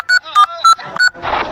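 A phone keypad sounds four short, evenly spaced dialing tones, close and loud, followed by a burst of noisy rustle.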